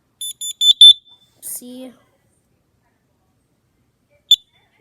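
A household fire alarm, made in the USA, lets out a quick run of four loud, high-pitched electronic beeps, then one more short beep after a pause. A voice speaks briefly between them.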